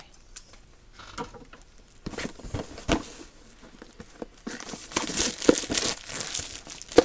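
A plastic wrapper on a boxed collectible is cut with scissors and peeled away, close crinkling and tearing with a few sharp snips, getting busier and louder toward the end.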